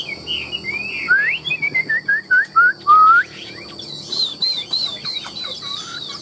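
A Chinese hwamei songbird sings a bright, varied melody of rising whistled phrases, followed by quick chirps and trills, close and clear.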